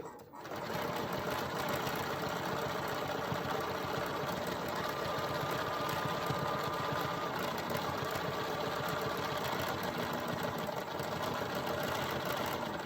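A sewing machine stitching slowly through a thick flannel seam, a steady close mechanical whir with rapid needle rhythm running continuously throughout.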